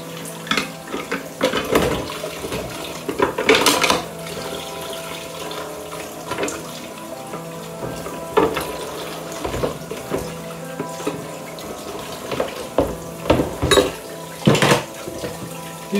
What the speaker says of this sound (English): Just washing up a bit.